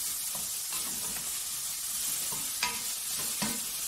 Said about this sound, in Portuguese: Já tá fritinha com a cebola e o frango.